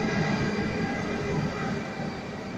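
A train leaving Germany for Poland gives a steady, close rumble of rolling wagons with a faint metallic whine above it, continuous and without talk.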